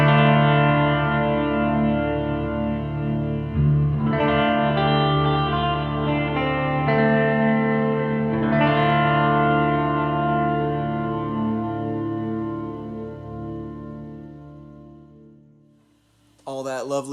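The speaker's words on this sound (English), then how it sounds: "This is the stereo wet amp here with reverb and delays and all the good stuff" Electric guitar played through a Roland JC40 stereo amp with reverb and delay, sustained chords ringing with wide chorus-like shimmer and echo tails, steady and full before fading near the end.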